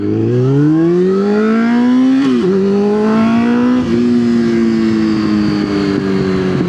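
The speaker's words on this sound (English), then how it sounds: "as much as I love this bike being loud, it's just not really realistic" A loud motorcycle engine revs steadily and close, with a strong droning tone that rises, dips briefly, then holds high and harsh. No voices.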